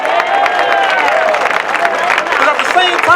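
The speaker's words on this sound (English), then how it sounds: "Give them a round of applause" A rally crowd bursts into loud, sustained applause and cheering at the 2024 Rally 4 Reparations, with dense clapping mixed with shouts and whistles throughout.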